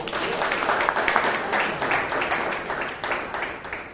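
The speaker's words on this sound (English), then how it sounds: "she deserves a round of applause" Applause from a Toastmasters meeting audience, a modest group clapping steadily with a slightly uneven rhythm across the whole stretch.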